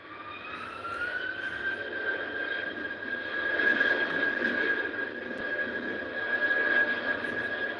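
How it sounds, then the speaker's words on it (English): A British Airways Airbus 319 jet at Heathrow airport gives a continuous engine roar with a steady high whine that swells and eases slightly over several seconds. No voices are present. "They just have the ambient noise of the aeroplane."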